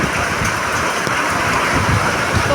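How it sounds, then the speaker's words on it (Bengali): Heavy monsoon rain falls steadily on a street where drains overflow, a dense continuous hiss and patter of drops hitting surfaces, close and loud with no pauses. "তোমাদের বৃষ্টি দেখাতে গিয়ে আমি পুরো ভিজে গেলাম।"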